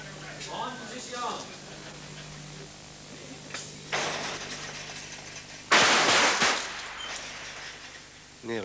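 Pistol shots at a modern pentathlon shooting event in Narrabeen, Australia, in 1985: a few sharp, separate cracks, spaced irregularly and each followed by a short ring, under a commentator talking.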